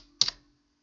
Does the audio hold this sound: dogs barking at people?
no